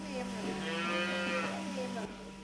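A dairy cow on a farm in Muak Lek district, Saraburi, Thailand gives one long, loud, close moo that rises and fades over a low steady hum.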